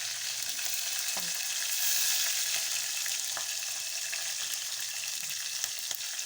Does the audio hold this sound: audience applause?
no